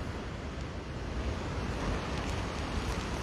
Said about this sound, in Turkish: Dalgalar her karaya ulaştığında Kilimli sahil yoluna da taşlar atıyorlar.